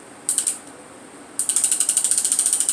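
Fishing reel being cranked: a brief ratcheting whir, a pause, then a longer run of rapid, steady clicking close to the mic, with no talking.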